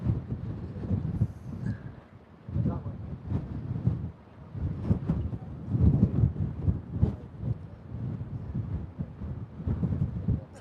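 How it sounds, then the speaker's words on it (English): Strong wind on a vessel heading out into the North Sea buffets the microphone in rough, low rumbling gusts that rise and fall throughout, loud and close. "it's quite windy up here"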